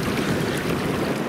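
Ocean waves in Quebec, Canada, wash and surge continuously with a windy hiss across the microphone, a broad steady roar.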